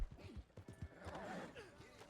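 A horse in Red Dead Redemption 2 clops and snorts faintly, with a few hoof beats followed by a low whinnying blend, quiet and brief.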